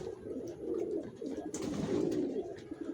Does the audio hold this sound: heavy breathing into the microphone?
no